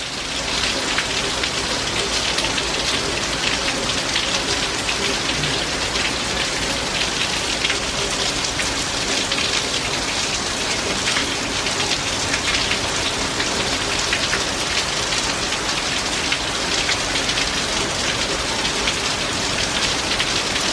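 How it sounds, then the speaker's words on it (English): Heavy rain from a Hurricane Francine squall line in Algiers, Louisiana pours steadily and loudly for the whole stretch, a dense continuous hiss of drops drumming on surfaces with no talking. "There was a good squall line coming right at us."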